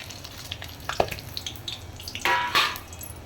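Whole spices, dried red chillies, cumin, bay leaves and garam masala, dropped into hot oil in a wok and sizzling, with a few clinks of stirring and a louder burst of frying near the end, close up with no talk.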